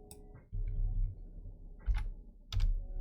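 A few keys tapped on a computer keyboard in a garage project setting, soft close clicks in two or three small clusters over a low steady background hum.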